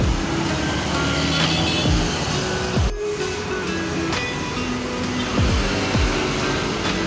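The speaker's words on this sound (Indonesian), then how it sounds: "Tampak PO Kramat Jati melintas." A PO Kramat Jati bus rolls past on a busy road, a loud broadband rush of engine and tyre noise with a brief horn-like drop, amid other passing traffic.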